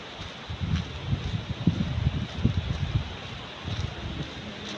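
Wind blows at the seaside on a rough day. Soft, uneven gusts rumble against the microphone in low bursts over a faint background hiss.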